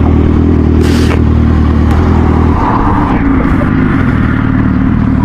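A motorcycle runs on the road with loud, close engine drone and rumble, mixed with wind buffeting and scraping clatter throughout.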